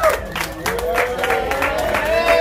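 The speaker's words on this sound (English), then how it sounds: "Give yourselves a round of applause in this motherfucker." A comedy club audience in Pomona, California claps and cheers in a steady, dense wash of applause, with voices shouting over it.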